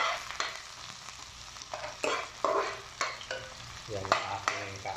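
Garlic and onion sizzling in a hot pan while being stirred, with repeated scraping and clattering strokes of a utensil over a steady frying crackle, close and fairly loud, no talking.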